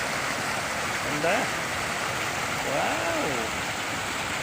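Water rushes steadily at Inukadan Spring, a broad, constant wash of flow close by, with a couple of excited exclamations rising over it.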